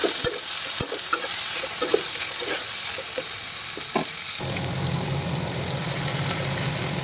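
Vegetables frying and sizzling in a pan with ginger paste and spice tempering, stirred several times with scraping knocks over a steady sizzle that gets louder and fuller midway, close and alone.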